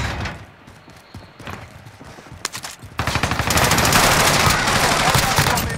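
Rapid automatic gunfire erupts in a battle-royale shooter video game, starting with scattered shots, then turning into a loud, dense, continuous burst of rounds up close.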